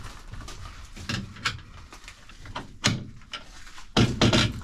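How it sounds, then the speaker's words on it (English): Greenhouse vent doors are popped open one after another, giving several sharp knocking clunks spread across a few seconds, with the loudest cluster at the end. "we're gonna start by popping these vent doors open"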